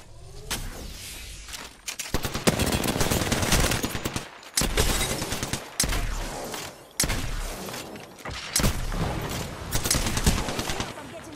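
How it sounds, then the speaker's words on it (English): Heavy automatic gunfire in the battle royale video game Apex Legends, loud sustained bursts and rapid volleys broken by short pauses, with chaotic impacts throughout. "I'm getting shot at."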